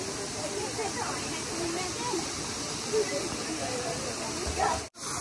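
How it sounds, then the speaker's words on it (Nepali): Small village waterfall near a bamboo cottage, giving a steady, even hiss of flowing water close by with no clear break. "यतापट्टि पानीको व्यवस्था नि झर्ना नि झरेको है"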